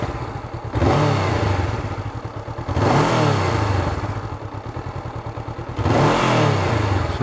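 A 2019 Honda CB500F inline-twin motorcycle engine revs in three strong bursts, each climbing then settling back to a rough idle between them, close and loud.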